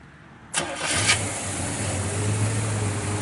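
A numbers-matching 1967 Chevrolet Chevelle SS 396 V8 cranks briefly and fires, settling into a steady, loud, close rumbling idle with no talk.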